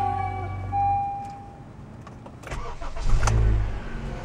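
A Honda compact SUV with a 2.4-liter K24 engine cranks and fires after a quiet cabin moment, the engine catching near the end and settling into a steady, close rumble with no talk.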